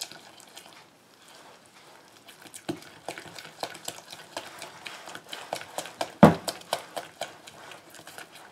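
Whisk or spoon stirring and beating corn dog batter with honey in a bowl, a rapid series of close scraping and tapping strokes that grow firmer and louder toward the end, with one sharp knock near the finish.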